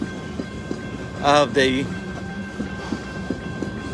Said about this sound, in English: lone engine with a couple of cars coming through the yard next to the empty coal train here